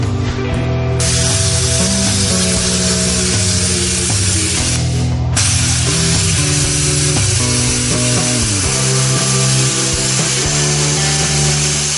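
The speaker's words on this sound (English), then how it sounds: "I came in and plasma gouged it out" A Hypertherm Powermax45 XP plasma cutter gouges out a weld with a loud, continuous hissing roar that holds steady for the whole stretch. Two brief dips mark torch restarts, and no one speaks.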